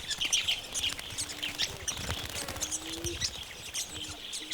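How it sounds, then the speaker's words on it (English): Grey-headed lovebirds flocking to water in Madagascar chirp in a busy flock, with sharp high twitters coming close together and a few lower calls and background noise beneath. "Grey-headed lovebirds are flocking to the water."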